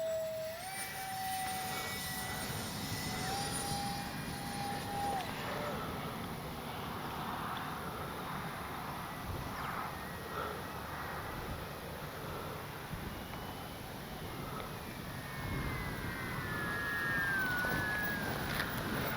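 An X-Fly J-65 Twin 40 RC model jet flies overhead, its turbine whine held as a steady, fairly distant roar with wind noise throughout, rising slightly as it passes near the end.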